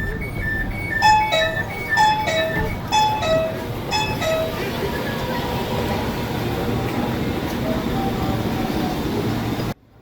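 A commuter train at Duri transit station in Jakarta, with a repeating electronic chime melody over the first few seconds, then a steady rumble of the train and station noise until the end.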